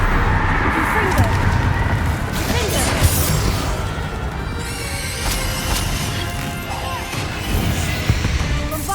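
The Confringo fire spell blasts in Hogwarts Legacy with crackling, smashing impacts and whooshing fire. It is loud and continuous, with game effects layered throughout and a voice speaking over it.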